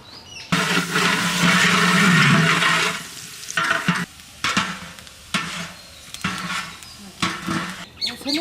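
Biryani rice cooking in a pot, giving a steady loud sizzling, bubbling hiss for a few seconds, then quieter stirring and clinking sounds in uneven bursts.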